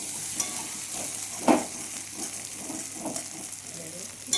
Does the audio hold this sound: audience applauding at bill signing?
no